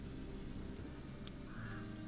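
Steady, faint rain falls in the video game Kenshi as a continuous soft hiss with a low rumble, no voices present.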